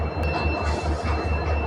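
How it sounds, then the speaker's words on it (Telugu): A WDP 4D diesel locomotive hauling an express train, heard as a loud, steady rumble with low rhythmic pulsing and rail noise, without voices. "ఈ WDP 4D ఎంత బాగుందో చూడండి."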